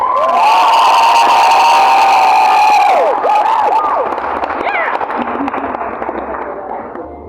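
Audience at a cosplay contest cheers and applauds loudly, with high whoops and shouts riding over steady clapping that slowly fades.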